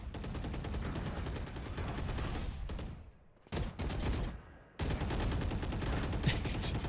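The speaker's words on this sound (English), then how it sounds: "They just keep shooting" Rapid automatic gunfire from the tactical shooter Valorant rattles in dense bursts, stopping briefly for a short quiet gap before the loud sustained shooting resumes.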